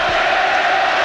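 A large stadium crowd roars in a sustained ovation at halftime of the 1991 Argentina vs Brazil football match, a loud, dense wall of cheering with no break.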